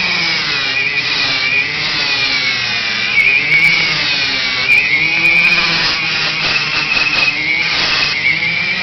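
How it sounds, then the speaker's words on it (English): A power tool sands down a throttle plate, giving a continuous high whine with slight wavering pitch and occasional scratchy bursts, loud and close, with no talking. "now I'm just going to take and sand this"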